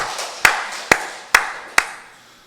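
A church congregation at a Sunday worship service claps in unison: four sharp, evenly spaced claps ring out loud in a reverberant hall, each fading before the next.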